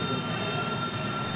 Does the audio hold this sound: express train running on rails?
yes